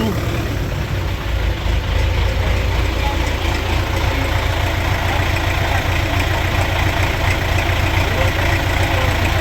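Freshly rebuilt MTZ-80 tractor engine runs at a steady, loud idle close by, a continuous low rumble throughout with some talk over it.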